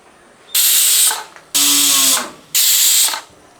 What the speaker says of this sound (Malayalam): മൂന്ന് വിസിലടിച്ചിട്ടുണ്ട് തീ ഒന്ന് കുറച്ച് വെച്ചിട്ട് ഞാൻ താഴോട്ട് വെക്കുകയാണ്